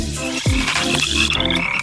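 Frogs croaking in a cartoon scene, a loud, dense chorus of throaty croaks close up, with one sharp falling tone early on.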